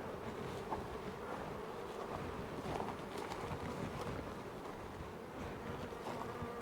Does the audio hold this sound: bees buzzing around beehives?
yes